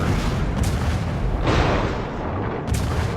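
Akizuki destroyer guns in World of Warships let off heavy booming blasts against a German battlecruiser, with two sharp reports about two seconds apart over a dense, rumbling battle din.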